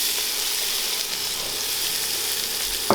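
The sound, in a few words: garlic and onions dropped into a pan, sizzling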